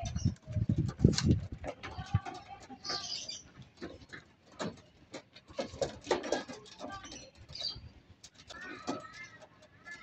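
Flock of pigeons cooing while pecking flyer feed mixed with honey, scattered coos and pecking clicks among busy loft noise, with a few higher calls and faint human voices in the background.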